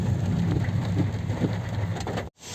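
Rain falls steadily over early-season potato fields in Punjab and Una, a constant close hiss of drops that cuts off abruptly near the end.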